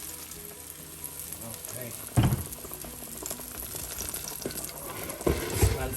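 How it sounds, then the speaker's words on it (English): A whole jar of biryani masala sizzles and bubbles in hot oil for a homemade Hyderabadi chicken dum biryani, a close steady frying crackle with a couple of louder stirring clatters and a brief spoken word. "I add this whole jar of masala into the oil"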